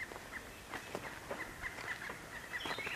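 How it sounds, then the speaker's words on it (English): Wild turkeys calling in the woods, a series of short faint yelps repeating in an irregular rhythm at a distance over quiet outdoor background. "Listen, I hear the turkeys."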